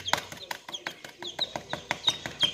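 Farmyard chickens cluck at feeding time, with rhythmic clucks and high peeps close by, mixed with sharp repeated taps at a steady pace.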